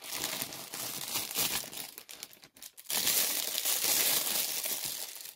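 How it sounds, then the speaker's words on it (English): Paper packing is pulled from a parcel, crinkling and crunching loudly and close in two bursts around a short near-silent pause. "let me get rid of the crinkles"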